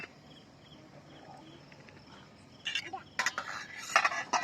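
A metal lid is set onto a pot of simmering Konkan-style val bean birde curry, sounding as a cluster of sharp, close clanks and rattles after a quiet kitchen hush.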